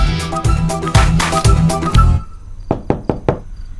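A quick series of about four sharp knocks on a door rings out close and clear, following a burst of loud rhythmic music that cuts off abruptly.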